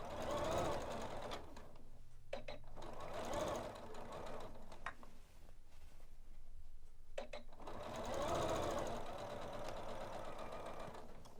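A Janome sewing machine stitches raglan seams on a dress in two long, even bursts of rapid, close-up mechanical whirring, with a short pause of quiet handling between them.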